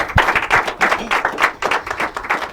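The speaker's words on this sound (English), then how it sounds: "A warm round of applause for everybody." A room of spectators at an inter-collegiate quiz and debate competition gives a short round of applause for the teams, with uneven, loosely rhythmic clapping that rises and falls.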